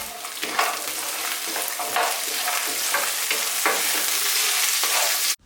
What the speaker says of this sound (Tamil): ஜஸ்ட் ஒரு 2 minutes ஃப்ரை பண்ணிக்கோங்க.